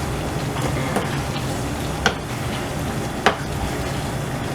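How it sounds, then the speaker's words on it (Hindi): Chicken sizzles steadily as it fries in masala for do pyaza, a constant crackling hiss broken by two brief clinks of a stirring spoon against the pan. "इसको 1-2 मिनट और अच्छी तरह मसाले में भूनेंगे चिकन को"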